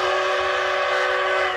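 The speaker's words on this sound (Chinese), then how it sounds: "鸣笛声伴随黑烟直窜天际，看到蒸汽火车缓缓前进" A double-headed steam train, DT668 and CT273 locomotives coupled on Taiwan's eastern railway line, sounds a loud, sustained, steady whistle blast that fills the short moment close by.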